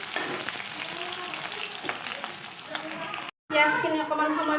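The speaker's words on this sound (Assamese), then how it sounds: "পিঁয়াজখিনি অকণমান সময় ভাজি লওঁ" Onions sizzle steadily in hot mustard oil with panch phoron for an Assamese dish, a close, continuous frying crackle with a brief dropout before it resumes louder.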